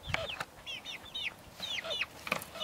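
Young hens kept in a kitchen counter converted into a small chicken pen inside a coop give repeated soft, rising chirps and clucks, several birds close by, with scattered taps and shuffles between calls.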